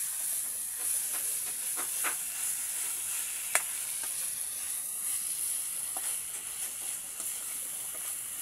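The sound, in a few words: potatoes and cabbage being stirred while frying in pan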